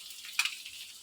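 Small cut chicken pieces, about a kilo, drop into a hot pan for pepper chicken, giving a sharp sizzling burst that settles into a steady, fairly quiet frying hiss.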